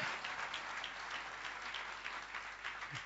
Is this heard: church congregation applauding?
yes